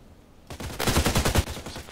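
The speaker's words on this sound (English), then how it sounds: "It's like 4 shots." An EBR marksman rifle in a shooter game fires a rapid burst of about a dozen sharp, loud shots in quick succession after a brief quiet moment.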